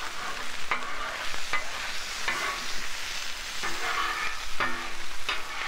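Ground meat browns on a Blackstone griddle, making a steady close sizzle with repeated scraping and clacking of a spatula as it is stirred and chopped, and no one speaks.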